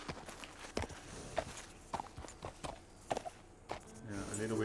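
Horse hooves clip-clop at a walking pace in the video game Red Dead Redemption 2, a steady rhythmic series of close hoof strikes, with someone talking over them and a soft swelling ambience toward the end.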